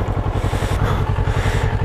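Motorcycle engine idling in the open at a lakeside reservoir, a steady, close low-pitched thrumming pulse with no speech over it.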